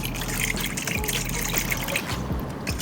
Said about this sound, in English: The river was moving too fast.